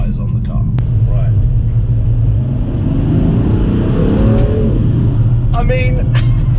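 A BMW M3 on winter tyres powers around a corner, its engine a loud, close, steady rumble whose pitch climbs as it accelerates midway, then settles.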